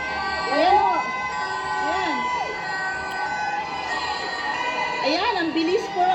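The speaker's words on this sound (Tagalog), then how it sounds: "parang may siren" Emergency vehicle siren rising and falling in wailing sweeps several times over a noisy crowd outside the ICC as Rodrigo Duterte arrives, with people talking and cheering throughout.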